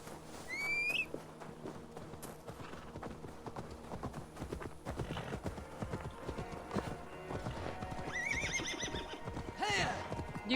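In Assassin's Creed Valhalla, a horse's hooves clip-clop in a quick, steady rhythm while the horse neighs and whinnies twice, once near the start and again near the end, under faint game ambience and a little talk.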